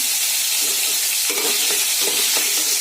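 Potatoes fry in a pan for a Bengali muri ghonto, a steady broadband sizzle with a few soft scraping stirs partway through, close and continuous with no talking.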